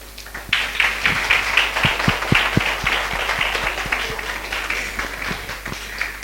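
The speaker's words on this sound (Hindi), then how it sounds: "उसके सम्मान में मात्र ताली बजा दीजिए।" An audience at an anniversary celebration claps in honour of a guest, a moderate burst of steady applause with a few sharper individual claps standing out.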